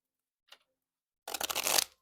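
A small tarot card deck shuffled up close, one quick crisp riffle after a faint tap, lasting under a second.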